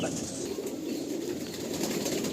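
Around 500 pigeons in the Ranihati loft make a dense, continuous murmur of overlapping coos, steady and close, with a faint hiss of movement.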